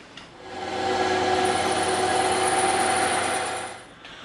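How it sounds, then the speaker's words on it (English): A bandsaw cuts through EVA foam, a steady whining buzz that rises as the blade bites in, holds evenly for about three seconds, then fades out; loud and close with no talking. "we're going to go hit this on the bandsaw"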